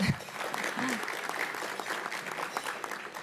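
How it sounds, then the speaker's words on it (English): Luncheon audience at the State of Orange County event applauding across the whole stretch, a dense, steady wash of clapping with a brief spoken voice at the very start. "thank you very much for the applause"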